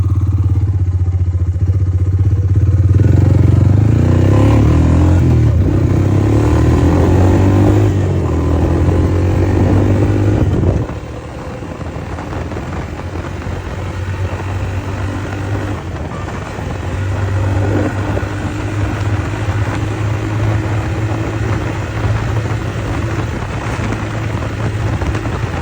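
Honda Fourtrax 300 ATV, two-wheel drive on 25-inch tires, with its engine droning loud and steady at top speed, then easing off slightly partway through before holding a lower continuous run.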